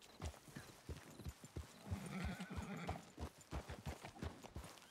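A horse in the video game Red Dead Redemption 2 clip-clops with quick, steady hoofbeats and gives a short whinny in the middle, heard fairly faintly and close.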